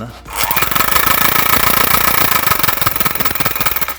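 A Grup's electric hand mixer with replaced gears switches on and runs with a loud, close, steady motor whir and a fast rattling flutter, some talk faint beneath it.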